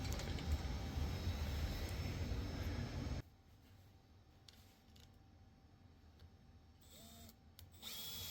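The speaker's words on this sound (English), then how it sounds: "I'm going to just do some self-tapping screws because this is just too wobbly" A power drill drives self-tapping screws into an old walker being repurposed as a dog ramp. A steady, loud motor whine runs for about three seconds, then stops. A quieter pause follows before the drill starts again near the end.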